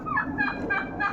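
A male turkey on a backyard poultry farm gobbles in quick, rippling bursts, three close, loud calls in succession with no talking.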